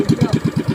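A 1.5 engine sold as a unit runs at a steady idle, loud and close, with an even pulsing beat of about eight firing pulses across the short stretch and no talk over it.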